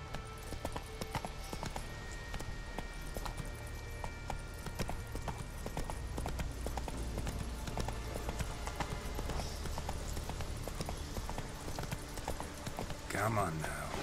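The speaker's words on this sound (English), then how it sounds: "Run, Roach." A horse gallops in The Witcher 3, its rhythmic hoofbeats clip-clopping steadily throughout with game ambience beneath, and someone talks over the running.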